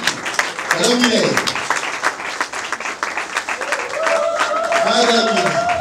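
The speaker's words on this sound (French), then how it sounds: "nous prions d'applaudir pour la réalisatrice" Warm applause at a Congolese cinema awards ceremony for a film director, steady clapping throughout with a voice speaking over it at the start and end.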